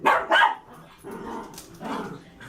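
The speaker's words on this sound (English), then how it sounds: "that's my dog. He loves to play with the other dog," A dog barks twice in quick, loud succession, then gives softer growling yips and grumbles while playing with another dog indoors, with no voices.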